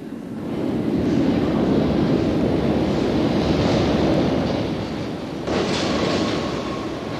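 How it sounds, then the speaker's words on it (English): A London Underground Circle Line train rumbles at Paddington, a loud, steady roar of wheels and motors that rises, holds, dips briefly, then resumes with a faint whine, no voices present. "At Paddington, Circle Line trains in view."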